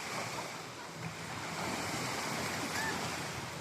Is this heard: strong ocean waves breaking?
yes